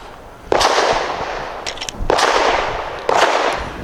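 A Grand Power Q100 pistol fires three loud, sharp gunshots about a second apart, each followed by a brief ringing decay, at close range outdoors.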